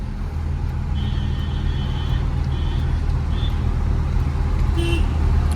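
A truck horn sounds in a few short toots over steady engine rumble as an Ashok Leyland truck sits in a traffic jam on a mountain ghat road in Jammu and Kashmir, with talk heard alongside.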